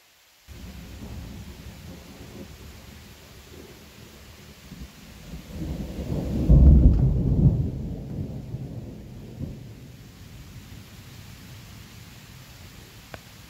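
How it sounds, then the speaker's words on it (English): A thunderstorm at a cabin, with steady rain hissing throughout and a deep roll of thunder swelling in the middle before fading back into the downpour. "I love sitting here in a nice storm. I can see some lightning, the thunder's rumbling"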